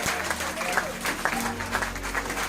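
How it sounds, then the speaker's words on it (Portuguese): Congregation at a Portuguese-language communion service in a Lisbon church claps briefly, a short burst of crowd applause with a reverberant room sound and faint voices mixed in. "Aplauda o Senhor aí, vai."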